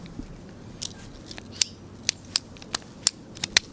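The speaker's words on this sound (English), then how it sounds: "But with the ratchet pruner," Ratchet pruner snipping branches of an old Japanese laceleaf maple being shaped with bonsai technique: a series of about eight sharp, crisp clicks and cuts spaced irregularly, close and fairly loud over quiet outdoor background.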